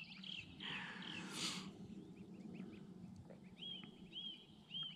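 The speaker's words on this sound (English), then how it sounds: "And the ducks have come back." Ducks come back to a waterside feeding spot where geese are also being fed seeds, giving faint, scattered quacks and calls over quiet outdoor ambience.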